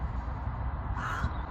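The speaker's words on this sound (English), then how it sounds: "My own little personal crow. He's been crowing away at me." A crow caws once against a steady low rumble, likely roadside or motorway background near a ferry crossing, with the call moderately close and brief over the constant drone.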